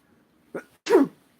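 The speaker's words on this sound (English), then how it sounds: "Sneeze." A single sneeze with a brief inhaled catch just before it, then a sharper, louder burst, close and alone in a quiet room.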